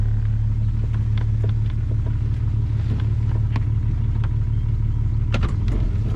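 A camping truck's engine rumbles steadily at close range as it is maneuvered after touching a tree during a monsoon, a constant low drone with occasional light knocks and clicks over it.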